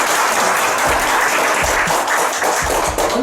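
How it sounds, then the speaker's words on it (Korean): An audience at a seminar applauds, a dense, loud, steady patter of many hands clapping that carries on without a break. "모두 박수 한번 주십시오."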